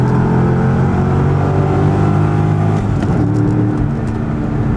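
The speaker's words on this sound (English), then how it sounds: "there's your exhaust clip, bone stock" A bone-stock Corvette sports car exhaust idles close by with a steady, loud, low rumble, and there is a slight change in tone near the end.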